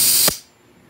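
Compressed air bursts through a propane torch nozzle during a repair, a short loud hiss that stops abruptly with a brief clunk and fades into quiet.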